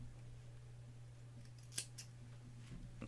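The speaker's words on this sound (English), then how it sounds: "and then we can snip off" Scissors snip the tail end of crochet yarn on a puff flower, one crisp close cut followed by a softer second snip in an otherwise quiet room.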